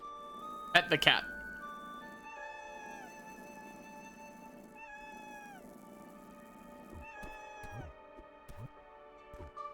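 A cat from the Celeste video game, being petted, gives a loud meow, then several drawn-out, tonal, synthesized mewling calls with a few thumps, playing under speech.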